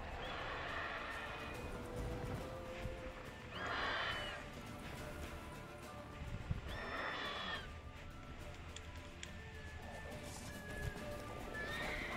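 Roach the horse in the video game Witcher 3 neighs twice loudly over steady clip-clop trotting, with faint game ambience beneath and no talking.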